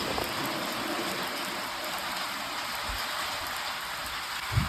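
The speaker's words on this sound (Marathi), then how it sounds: "जोरदार पाऊस आलाय." Heavy rain falls in a steady, dense hiss that stays constant throughout, with a couple of brief louder splashes near the end.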